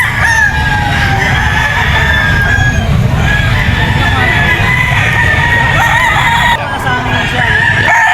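Gamecock roosters crowing at Grotto pet market, several loud overlapping crows and clucks close by, mixed with crowd chatter and voices throughout.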